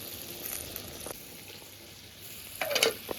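Ground spice paste hitting a hot pan with ridge gourd for a Bengali jhinge aloo chingri curry, a faint steady sizzle with a few soft stirring scrapes and a louder clatter near the end.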